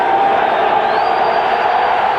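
Loud roaring stadium crowd at a 1995 Raiders–Chargers NFL football game, a dense sustained wash of cheering noise that stays steady and close for the whole stretch.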